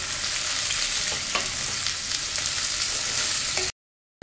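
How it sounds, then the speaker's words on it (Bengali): Gondhoraj chicken fries in a pan with a constant loud sizzle and occasional stirring scrapes, with no talk over it, before the sound cuts off abruptly at the end. "এবার এটা কিছুক্ষণ ভালো করে ফ্রাই করে নেব।"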